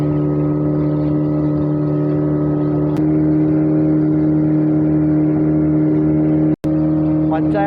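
A speedboat engine drones steadily at close range during a ride on the way to Munnar, a loud, even hum with a brief dropout near the end.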